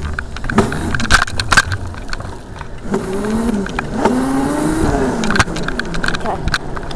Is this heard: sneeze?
no